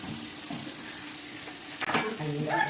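Masala sautéing in coconut oil for fish biryani gives a steady sizzle, and a spoon scrapes and clinks in the pan near the end, close and fairly loud.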